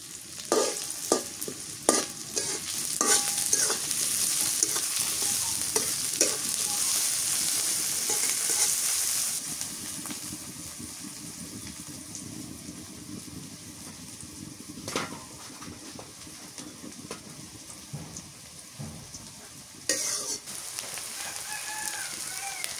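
Nigella seeds and whole cumin with a few small cardamom pods frying in hot oil with chopped onion, a loud steady sizzle and crackle with occasional stirring scrapes, close up.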